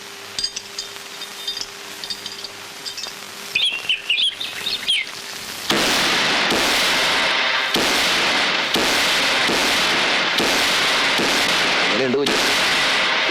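Firecrackers go off at a religious festival: after a quiet spell with birds chirping, a dense, loud string of sharp bangs and crackles bursts out and keeps rattling on with brief gaps.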